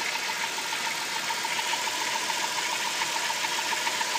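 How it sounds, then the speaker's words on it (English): Car engine idling during an HHO gas test, a steady even drone with a faint regular knock, moderately quiet and heard alone throughout. "No difference in engine idle."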